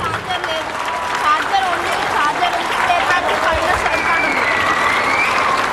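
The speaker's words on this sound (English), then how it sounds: "let's give a big round of applause to all the participants" A crowd claps continuously for participants at an Independence Day celebration. The applause is a steady, dense wash that stays loud throughout.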